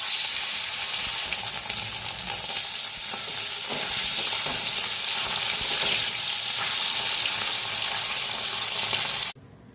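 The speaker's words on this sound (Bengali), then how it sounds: "তেল গরম হয়ে গেছে, প্রথমে এক এক করে মাছগুলো ভেজে নেব।" Hilsa fish fry in hot mustard oil with a steady, dense sizzle that fills the pan. Faint clatters from stirring come through before the sound cuts off abruptly near the end.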